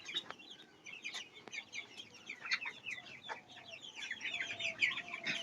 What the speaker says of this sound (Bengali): এবার দেখো মুরগিগুলো কিভাবে ঘাস খায়